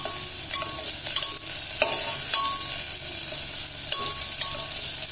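Capsicum and tomato sauté for brinjal pulao in a loud, constant sizzle, with occasional scrapes and clinks of a spatula stirring the pan.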